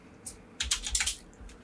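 A short flurry of computer keyboard keystrokes, a handful of quick, crisp clicks close up, with no voices.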